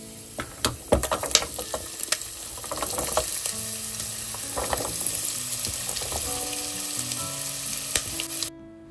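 Small-cut potatoes, fried nuts and desiccated coconut sizzle together in a pan for a Bengali flattened-rice pulao, a constant loud crackle broken by sharp spoon clinks and stirring scrapes, with no voices.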